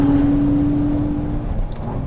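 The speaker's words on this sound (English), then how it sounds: "Engine comes on seamlessly, and it remembers I wanted manual mode" A McLaren engine pulls in sport mode, a loud, close, rumbling drone with a steady whine on top that fades slightly as the car moves off.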